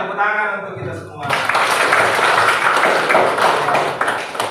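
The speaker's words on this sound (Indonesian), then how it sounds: "Ayo tepuk tangan untuk kita semua." Students in a classroom at a teachers' workshop in Jeneponto break into loud, dense clapping right after a teacher's brief spoken cue, and the applause keeps going steadily until the end.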